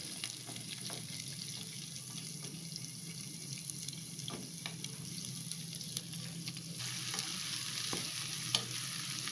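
Cumin and mustard seeds fry in hot oil while cooking lemon rice, giving a steady, fairly quiet sizzle with light crackles and occasional stirring clicks, growing a little more intense toward the end.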